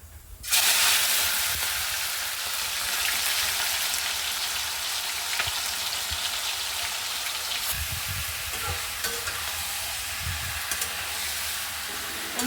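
Broiler chicken frying in hot oil, a steady loud sizzle that starts abruptly and then crackles on without a break, with a few soft clinks from handling along the way.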